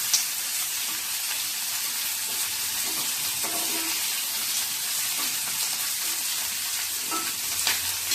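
Green chillies fry and get stirred in hot oil for a spicy Maharashtrian side relish, a steady bright sizzle with occasional scraping stirs, close and alone without talk.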